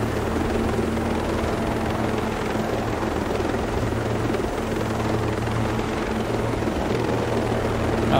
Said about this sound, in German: Aber da wir hier so einen Heli spendiert bekommen haben